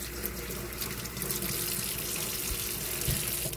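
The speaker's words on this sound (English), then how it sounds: "Wash hand off real quick." Tap water runs steadily into a kitchen sink while hands are rinsed of raw egg and crust, a close, even splashing stream with a few brief knocks.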